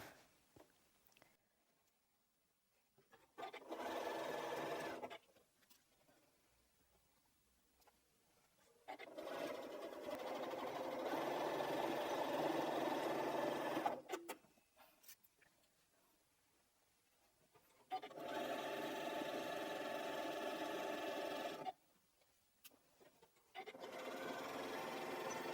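Sewing machine stitching through a thick layer of quilted fabric for a quilted strippy bag, in three separate bursts of steady whirring and rapid needle patter, each several seconds long, with quiet pauses between and no talk.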